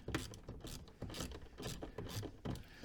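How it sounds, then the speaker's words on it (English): A hand ratchet turns the air filter housing screw on an Audi A2 with a 1.4 16v engine, giving close, quiet, rapid clicking in short repeated strokes with brief pauses between swings. "It's nice if you have a ratchet, it's much easier."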